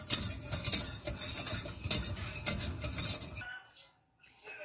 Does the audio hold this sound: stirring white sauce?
yes